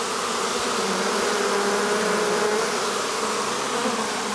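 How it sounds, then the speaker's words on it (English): A swarm of killer bees buzzes in a continuous, dense drone, loud and close, holding steady throughout without voices. "There's just some killer bees right there."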